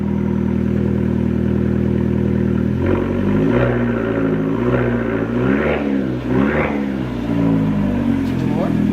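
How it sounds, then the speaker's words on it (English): A small Fiat Abarth car engine idles steadily, then revs up in several rising bursts, loud and close, with a voice speaking faintly underneath. "Give her a bit of revving there."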